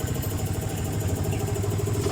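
A Yamaha Vixion motorcycle engine runs at a steady idle, close up, with a continuous low throbbing putter and a faint mechanical clatter.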